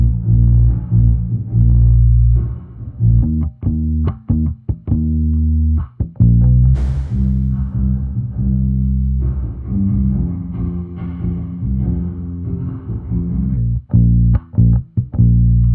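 A bass guitar recorded direct and run through a small bass amp, drenched in exaggerated reverb, plays a steady, loud line of deep sustained notes whose tails wash and echo as if played in a distant room.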